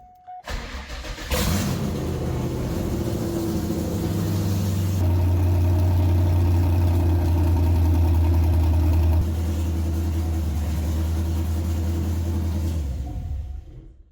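A C5 Corvette engine cranks and fires up, then settles into a steady, deep idle that rises slightly partway through before the clip ends, loud and close with no talking.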